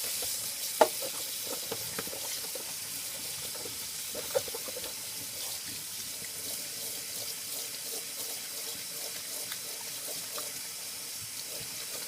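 Water sloshes and swirls inside a vintage snapback hat being cleaned by hand, a steady, fairly faint wet churning with a couple of small knocks and no talking.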